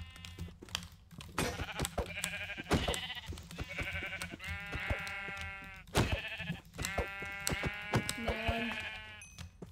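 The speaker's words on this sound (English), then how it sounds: "That's a sheep." Sheep in the video game Minecraft bleat repeatedly, a series of wavering calls close together over a faint background of clicks from keys or a mouse.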